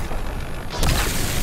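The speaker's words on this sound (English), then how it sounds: "Explosives! Get down!" Explosion in the video game Cyberpunk 2077, a sudden loud broadband blast about midway that keeps rumbling to the end after a quieter background of game ambience.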